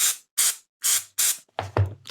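A spray bottle is pumped at the stained back cover of a vintage paperback: six short, close hissing bursts in an uneven rhythm, separated by silence.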